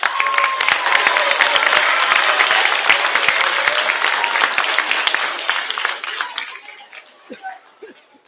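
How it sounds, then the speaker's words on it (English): A school award ceremony audience gives a long, loud round of applause for the student award winners, dense clapping with some chatter and laughter mixed in, fading out toward the end. "a large WLMS round of applause for all of our award winners"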